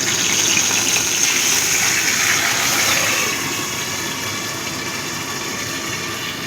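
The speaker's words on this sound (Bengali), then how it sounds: "এ পাশটাও ভালো মতো ভেজে দেব।" Flipped pabda fish fry in oil with a loud, continuous, close hiss that eases slightly partway through. No one talks.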